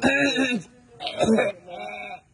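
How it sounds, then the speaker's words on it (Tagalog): A few short, rough coughs and throat-clearing sounds close by, loud bursts separated by brief pauses. "Ay, alam ko kung ba't ka umuubo."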